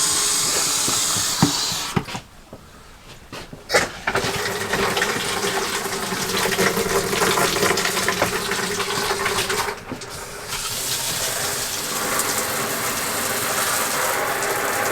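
An RV toilet flushes with a loud rush of water and gurgling, breaks off briefly, then continues refilling with a steady hiss and mechanical rattling.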